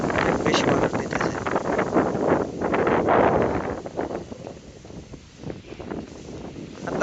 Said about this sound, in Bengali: অনেক বেশি বাতাস দিতেছে।